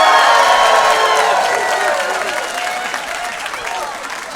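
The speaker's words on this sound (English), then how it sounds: "If you had a teenager and they grew up and they moved out of your home, applaud." A comedy club audience bursts into loud applause with cheers and whoops that hold steady, then gradually thin out and fade over a few seconds.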